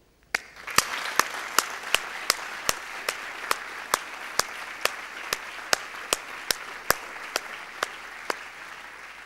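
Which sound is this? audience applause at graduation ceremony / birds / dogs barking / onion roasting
audience applause at graduation ceremony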